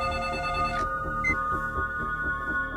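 A telephone rings with a steady electronic tone over a low background, loud and close, with no talk.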